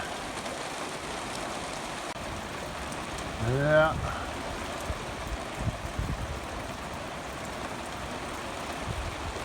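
Steady rain falls over cattle pastures, a dense broadband hiss filling the whole stretch, with a brief voice and a few faint knocks partway through.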